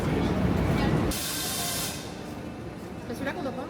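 A Paris metro train pulls into the station with a loud, steady hiss and rushing noise that then eases to a lower rumble, while people talk nearby.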